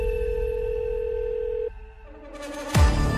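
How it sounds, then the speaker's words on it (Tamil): A telephone tone sounds alone, a steady held pitch that breaks off and gives way to a brief burst of noise at the end. "திடீர்னு 10:30 ஒரு ஃபோனு."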